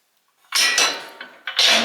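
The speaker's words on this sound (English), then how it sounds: "Another feature I really liked was the access panel to your belts and spindles. Just lifts up like so and stays in place." A metal access panel covering the belts and spindles on a Gravely ZT HD60 zero-turn mower is lifted, making a few close clanks and rattles over about a second and a half.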